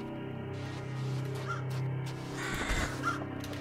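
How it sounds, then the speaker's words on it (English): Crows cawing at a distance, with a few harsh calls over a steady low background hum and a brief rumble near the end. "Hey, birds."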